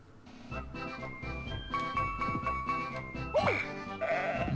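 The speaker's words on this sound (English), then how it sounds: "Motherfucking goat." Goat bleating in a Sega CD video game, a few wavering cries over game music with a steady beat and sustained tones, moderately loud and close.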